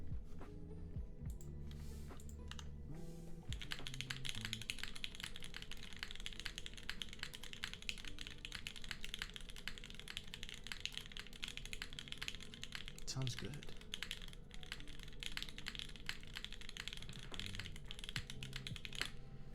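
Steady clacking keystrokes on a custom-built Half Life Synovia mechanical keyboard run continuously and close, with a brief remark spoken partway through.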